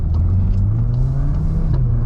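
An MK8 VW Golf R with all-wheel drive accelerates hard from inside the cabin, its engine drone rising steadily in a loud, continuous low rumble with no talk over it.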